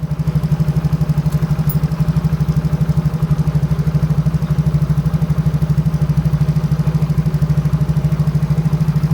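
A Yamaha Mio J scooter engine idling high, a steady, loud, close putter with an even rapid pulse that holds without letup throughout.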